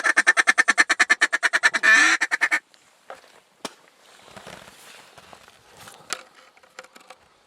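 During a mallard duck hunt, a fast run of loud, evenly spaced quacks ends abruptly, followed by quieter scattered rustles and knocks.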